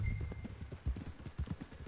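Horse hooves clip-clop in an uneven, rhythmic pattern in Red Dead Redemption 2, fairly soft and close, with no clear whinny standing out and no talking.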